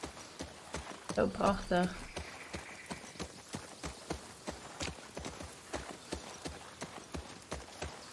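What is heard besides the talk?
horse hooves clip-clop while riding, The Last of Us Part II video game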